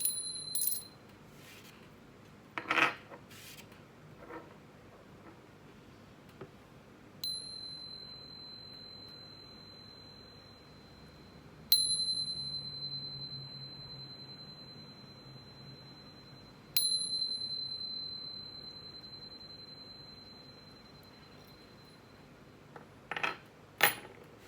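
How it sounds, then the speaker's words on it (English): Bright metallic chime strikes ring out before a tarot reading, several separate hits spaced a few seconds apart, each leaving a long sustained pure tone that slowly fades in an otherwise quiet room. "But first, let's chime."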